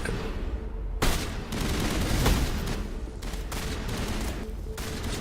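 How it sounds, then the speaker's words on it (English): Sustained volleys of gunfire from the Mass Effect video game, with rapid overlapping shots, sharp cracks and booming impacts rolling continuously at moderate loudness. "So they're shooting one location."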